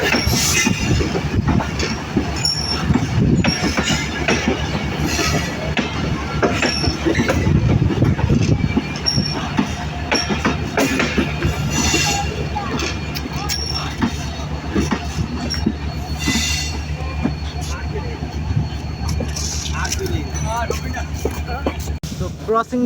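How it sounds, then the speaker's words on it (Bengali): The Dhaka-bound Madhumati Express rumbles and clatters as it pulls away from Pachuria Junction station after a long whistle, wheels squealing at times, loud and close, with voices occasionally audible over the noise. "লম্বা হুইসেল দিয়ে আমাদের ঢাকামুখী মধুমতি এক্সপ্রেস ট্রেনটি কিন্তু পাতুরিয়া জংশন রেল স্টেশন ছেড়ে যাচ্ছে"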